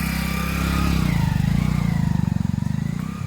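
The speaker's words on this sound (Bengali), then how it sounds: "ভিতরে মোটরসাইকেল চলবে।" A motorcycle engine runs steadily at close range on a path through a small mangrove forest park with golpata palms, giving a throbbing mid-pitched drone that swells slightly and then pulses as the bike moves, with no voices.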